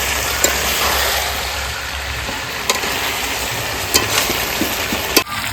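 Potatoes frying in a pan of desi chicken curry, a steady close sizzle and stir with a few sharp clinks of a spoon against the pan, no talk.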